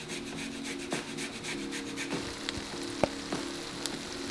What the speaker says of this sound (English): So just take that skin off and grate that straight in.